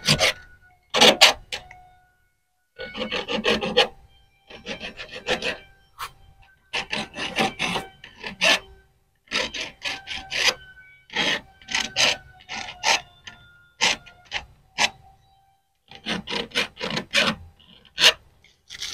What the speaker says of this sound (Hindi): इसको दोस्तों हमने थोड़ा सा रेती से रगड़ लेना है।